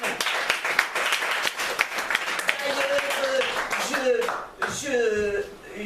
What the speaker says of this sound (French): Vous pouvez m'applaudir quand même.